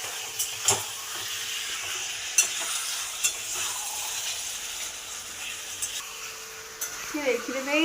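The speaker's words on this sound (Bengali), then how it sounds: "মাংসটা কষানো ভালোভাবে তো কষি" Chicken meat being sautéed and stirred in a hot pan, giving a steady sizzle and hiss with scraping stir strokes, close and fairly loud, with a few brief knocks.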